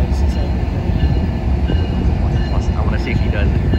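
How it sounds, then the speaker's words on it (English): A freight train rumbles past up close, with a continuous heavy roar and rolling rail noise throughout, while excited voices are faintly heard over it. "it's a freight train"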